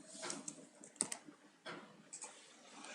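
Quick bursts of keystrokes on a computer keyboard while code is typed, close and fairly quiet, with a sharp clack near the start and short pauses between clusters.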